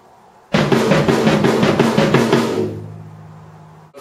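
A sticking pattern played on a single tom drum, a rapid, even roll of about a dozen close strokes lasting two seconds, then a ringing decay into quiet.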